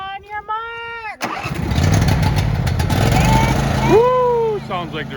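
A racing lawn mower engine with a hot cam fires up and revs at a family race day, a loud rough drone that rises and falls as it moves around the course, with cheering voices over it.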